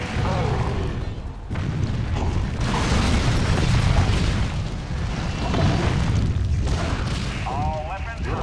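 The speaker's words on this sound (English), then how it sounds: "Firing on enemy." Continuous weapon fire and booming explosions in Hulk Ultimate Destruction's final stage, a dense, loud roar of blasts and mechanical rattling with radio-style voices talking over it.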